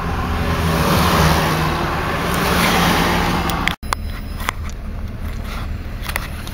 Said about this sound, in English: Well, I'm still sitting in traffic.